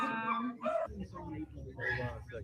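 Beagles whimper and yip in short, high, whiny bursts close by, mixed with people talking over them.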